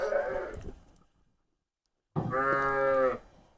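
A big farm goat gives two long, loud bleats, close to the listener, with a silent gap between them.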